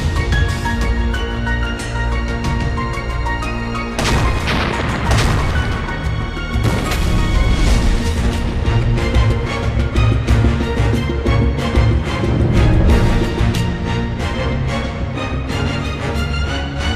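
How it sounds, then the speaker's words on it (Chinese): A car blows up in a Chinese TV crime drama: a loud crashing blast bursts in about four seconds along, then a heavy, sustained roar and rumble continues under dramatic music. "快走，车要爆炸"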